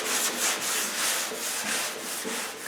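Block sanding primer on a 1975 Pontiac Firebird body panel with 320 grit sandpaper, a steady close rasping stroke repeated back and forth with no talk.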